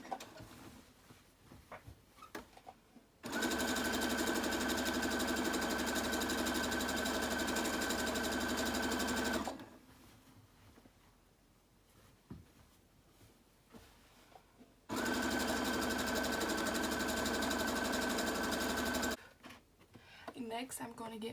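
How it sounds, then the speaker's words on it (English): A sewing machine stitches fabric pieces for a cottage-style party dress together in two long steady runs of rapid mechanical whirring, separated by quieter handling noises, with a voice speaking in the pauses. "I'm going to sew them together so it's one long piece of fabric."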